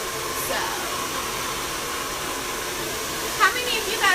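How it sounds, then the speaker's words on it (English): A hair dryer fitted with an attachment blows a steady airy hiss for several seconds, with a few faint clicks and a slight surge of noise near the end. "how many of you guys have this attachment on your dryer?"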